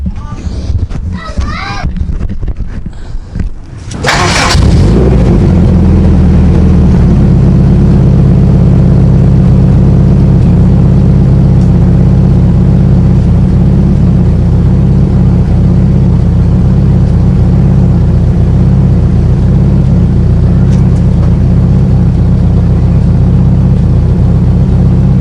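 A Honda Accord AWD with an H2B turbo swap and a freshly fabricated, welded exhaust cranks over after a few quiet seconds, then settles into a loud, steady, deep idle that runs close and continuous.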